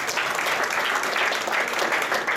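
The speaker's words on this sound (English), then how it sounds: "give yourself a round of applause" Steady, dense applause from an audience at a boxing press conference for a rematch, continuous and even throughout with no pauses.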